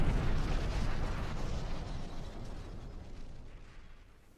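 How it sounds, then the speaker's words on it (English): An anime explosion sound effect: a loud, deep rumbling blast that starts at full force and then slowly fades over a few seconds, with no voices. "Explosion."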